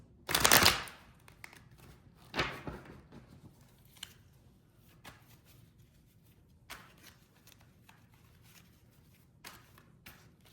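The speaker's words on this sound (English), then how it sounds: "let's shuffle the tarot just so you see there's no funny business with the tarot cards" Tarot cards being shuffled and riffled up close, a loud burst at the start followed by softer scattered flicks and taps.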